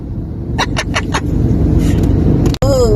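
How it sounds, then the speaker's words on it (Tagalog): Road traffic near Green Hills, a steady loud rumble of car engines idling and creeping in a jam, with a few short chirps early on and a sharp click near the end. "Traffic pala dito. Hindi na tayo nagumalaw dito mga kagango. Sobrang traffic."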